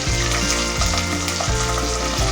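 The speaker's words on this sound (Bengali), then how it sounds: "এবারে মশলাটা একটু কষাই।" Ginger paste, cinnamon and other spices frying in oil for Chinese chicken vegetable fried rice: a loud continuous sizzle with rhythmic stirring scrapes about every half second, close up and without voices.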